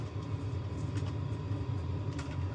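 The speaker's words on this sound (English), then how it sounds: "Now the diesel here, it has quietened down, but it is still quite loud" The diesel engine of a small Mardave race car idles with a steady, low rumble close by. The churning drone holds an even level throughout, with no voices over it.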